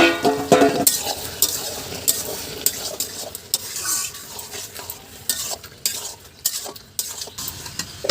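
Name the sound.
stirring bottle gourd and prawns in a pan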